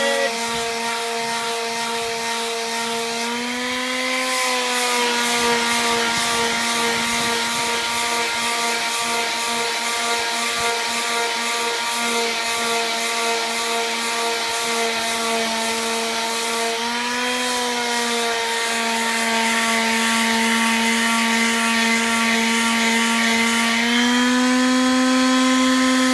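Glue is sanded off a repaired cricket bat, a loud continuous rubbing whine with a steady pitched drone that dips and rises a few times, running close up for the whole stretch with no talking.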